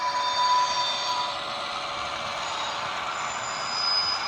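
HO scale model BN locomotive moving on a layout, a steady mechanical whir with a thin high whine from the small motor, fairly close and alone without voices.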